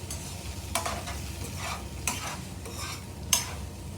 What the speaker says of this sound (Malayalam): ഓക്കെ, അപ്പോൾ ഇത് മിക്സ് ചെയ്യുകയാണ്.